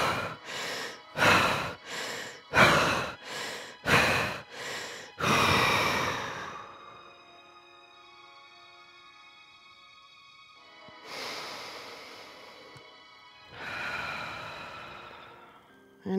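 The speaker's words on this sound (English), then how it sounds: "we're gonna breathe 5 times quickly in, expanding your rib cage. On the 5th time, you're breathing out and pushing" Breathing exercise with five quick, forceful breaths in a row, then a long push-out exhale, a quiet pause and two more strong breaths, close and loud with no talking.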